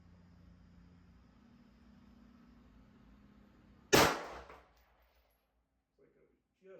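A single loud, sharp rifle shot from a Daniel Defense MK12 rings out in the open air after a quiet stretch and decays quickly, followed by a couple of faint small sounds.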